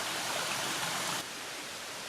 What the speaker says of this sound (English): I hear a lot of water